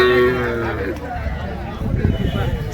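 Cattle at a native cattle market in Madrapalli: a low moo is heard nearby at the start, followed by shuffling and general market bustle beneath steady talking.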